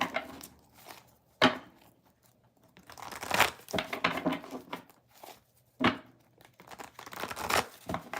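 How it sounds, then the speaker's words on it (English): Tarot cards being shuffled by hand, heard as soft, irregular papery riffles, crinkles and snaps that come and go at close range with brief quiet gaps between them. "Let's shuffle and we will move on to a Cancer"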